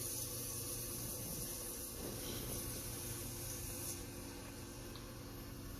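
Steady abrasive hiss of 220 grit sandpaper working a handmade pink ring, continuous and fairly close for the whole stretch with no talk.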